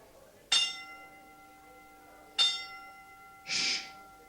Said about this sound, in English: our timekeeper, Miss Anika Williams, tolls the bell 10 times in memory of Panteli.